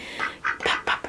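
A male pet duck, a drake, gives a run of four or five short raspy calls in quick succession, close by and fairly loud.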